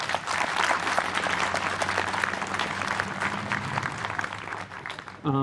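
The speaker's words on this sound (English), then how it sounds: "So I think they definitely need a round of applause for that." A round of applause at a memorial celebration of life, many hands clapping steadily and fairly close, sustained throughout and fading slightly near the end.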